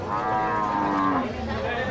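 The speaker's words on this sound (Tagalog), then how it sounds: "Oh, kalabaw." A water buffalo (carabao) lets out a long, loud, close moo lasting about two seconds, at a livestock trading spot.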